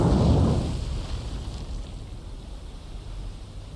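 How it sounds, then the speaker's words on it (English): A torpedo striking a ship in the naval war game War on the Sea, a heavy booming blast that fades into a long, rumbling, rain-like wash of debris and water. "Won't be amidships per se, but a torpedo hit will be a torpedo hit."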